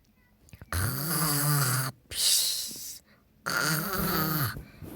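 A sleeping child snores loudly in three long rasping breaths with short pauses between, each swelling and fading, close and alone without talk.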